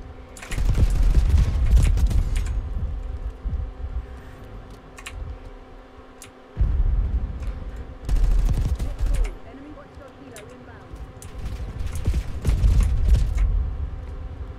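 Gunfire in the video game Black Ops 6, dense bursts of rapid automatic shots in several loud clusters separated by quieter gaps, close and punchy, with a voice talking in between.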